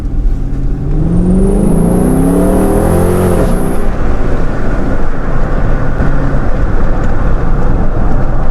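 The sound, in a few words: 2013 Dodge Charger R/T AWD revving and accelerating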